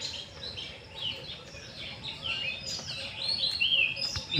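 Many birds chirp and call together in a daytime jackal sanctuary, a steady layer of bright, overlapping tweets that carries on throughout at moderate volume, with no talking.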